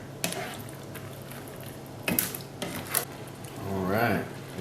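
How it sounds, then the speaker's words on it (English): Beef stroganoff with milk being stirred in a skillet: a spoon scraping and clinking against the pan in a few separate strokes, with soft liquid sloshing and a brief bubbling swirl, fairly quiet. "Let's stir it again. This time with the milk in there."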